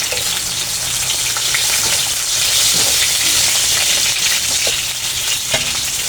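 Onions fry in a hot pan with a loud, dense, continuous sizzle, close up and unbroken, with light crackles on top.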